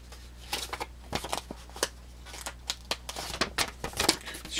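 Thin plastic bag crinkling around a Meyerco 18 X-Ray switchblade knife being unboxed: a quick string of close, dry rustles and crackles in short bursts, with no talking.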